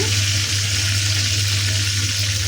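Bay leaves and shrimp sizzling in hot oil for a Bengali prawn malai curry, a loud, steady frying hiss that runs unbroken and close throughout.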